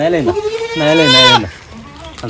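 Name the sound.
Malabari goat bleating while being fed leaves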